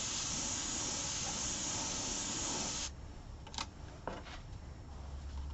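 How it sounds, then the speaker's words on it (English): Aerosol spray paint can hissing in a steady, loud continuous burst for about three seconds, applying colour in a peacock-themed paint test, then cutting off abruptly, followed by a couple of short, faint puffs. "Spray in the middle just to get the colour going."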